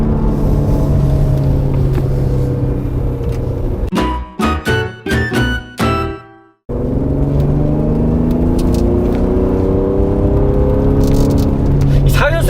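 A Mercedes-AMG GLC43 engine and exhaust while driving, a continuous loud drone with rising pitch; midway it is broken by a burst of choppy, stuttering exhaust pulses and a brief drop-out before the steady engine sound returns.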